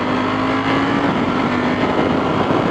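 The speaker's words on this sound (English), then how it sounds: "I'm not even cracking this throttle all the way open because this thing's almost scary" A 2018 Ducati Panigale V4S motorcycle engine roars loud and continuous as it accelerates on a road ride, a dense, steady drone filling the whole stretch with no pauses.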